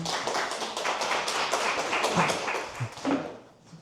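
An audience at a 2024 fermented-sauce (jang) festival forum in Jangsu claps to welcome a speaker, a close, dense burst of hand claps with a few louder hits that fades out after a few seconds.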